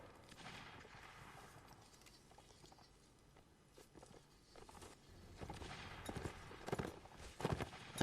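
Musket volleys from a Napoleonic Wars line battle game, crackling as scattered distant shots that build into louder, denser firing toward the end, with no voices.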